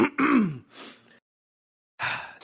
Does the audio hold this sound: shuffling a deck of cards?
no